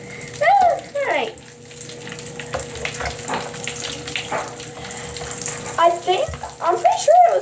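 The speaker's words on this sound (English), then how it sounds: "listen as the magic bath crackles pop and crack" Magic bath crackles fizz and pop in bath water, a bright, irregular crackling hiss with a person talking over it at the start and end.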